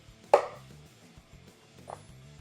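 A knife cuts through a block of halloumi cheese, giving one sharp, close chop followed by a softer second cut a moment later, with a faint low background hum underneath.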